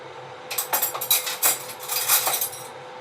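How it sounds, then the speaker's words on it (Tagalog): Egg and potatoes sautéing in an oiled pan, with a series of sharp metal utensil clinks and scrapes against the pan over a faint steady background. "So, igisa lang natin doon, saka na natin ihulog yung ating patatas po guys."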